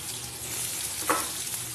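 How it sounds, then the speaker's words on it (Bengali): Mixed vegetables frying together in one pan, a short steady sizzle close by with a brief stirring scrape, no talking. "এবার আমি সবজিগুলো ভাজা করার জন্য দিয়ে দেবো আমি আলাদা আলাদা ভেজে তুলে রাখি না আমি একবারেই ভেজে নিই"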